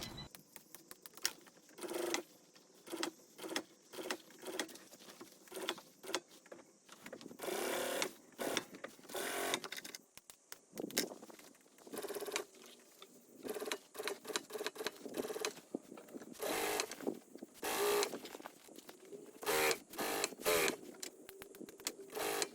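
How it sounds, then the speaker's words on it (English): Sewing machine stitching the side seam of a boat cushion, with rapid stop-start runs of mechanical needle clatter in short and longer bursts, close but fairly quiet, and no talking. "Sew your side seam together."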